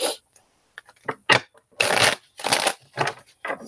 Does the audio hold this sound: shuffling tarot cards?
yes